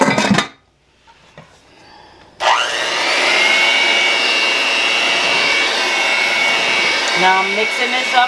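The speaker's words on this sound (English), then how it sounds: "Now I'm mixing this up like this." Electric hand mixer beating tea cake cookie dough in a bowl, a loud steady whir running for several seconds after a short quiet start with faint clinks, with a scraping rattle near the end.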